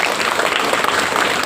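Clapping from a karate class for a student who has just finished a straight-elbow drill: steady, dense applause from a small group, continuous and fairly loud throughout.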